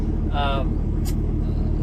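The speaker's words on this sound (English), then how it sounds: "I've had the little truck running for about 30 minutes now" A 2013 Peterbilt 388 truck idles with a steady low diesel rumble, close by, after a jump start from a dead battery; a brief whistle-like tone and a short hiss rise above it.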